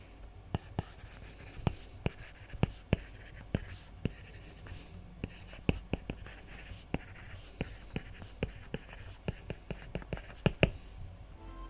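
Stylus strokes on a rough PaperLike matte screen protector on an iPad, a steady scratchy scribble punctuated by frequent sharp taps, close and fairly quiet, with no voices.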